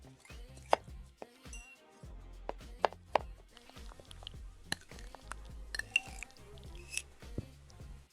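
AI-generated food prep sounds accompany an anime cooking scene, with knife chopping and hand movements. Quiet, irregular taps and crisp clicks occur at close range, with soft rustles between them and no talking.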